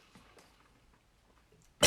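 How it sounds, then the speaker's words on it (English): After near silence, a single loud, sharp cough bursts in at the very end, close to the microphone. "I got through the whole hour this time without coughing"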